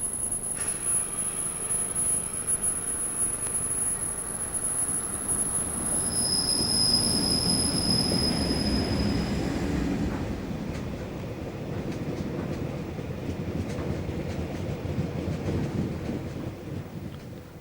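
A Class 58 freight locomotive passes on the Brockley Lane line toward Angerstein Wharf, a steady low rumble of engine and wagons that swells in the middle and carries on to the end, with a high whine near the start and no talk.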